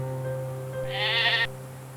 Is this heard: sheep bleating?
yes